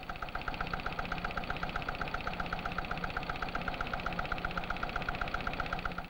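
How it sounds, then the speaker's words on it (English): A knock-rating test engine runs while deliberately made to knock, giving a steady, rapid mechanical pulsing with a sharp metallic rattle in each beat, even and continuous at close range with no talking. "we mentioned that distressing phenomenon, knock. In this, a knock rate engine, it is being deliberately caused."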